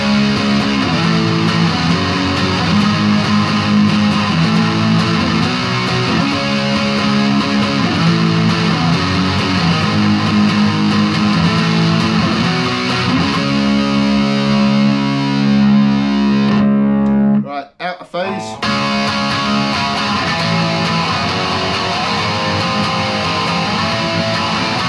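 Squier Classic Vibe Mustang electric guitar played through distortion on the neck pickup, a dense sustained overdriven tone with chords and riffs running steadily, briefly cutting out near the end before resuming, with no talking.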